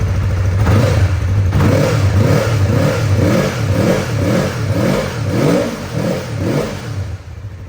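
A 2015 Yamaha R3 motorcycle with stock exhaust revving close by, its engine rising and falling in a rapid series of repeated throttle blips over a steady idle rumble.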